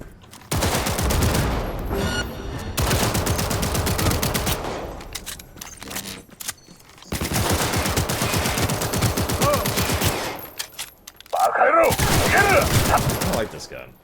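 Gunfire in Cyberpunk 2077: heavy, sustained automatic bursts ring out loud and close in three long volleys separated by short pauses, with a shorter burst near the end.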